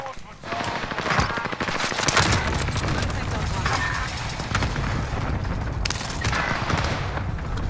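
Rapid video game gunfire rattles in dense, continuous bursts for several seconds, loud and close, with a voice talking over parts of it.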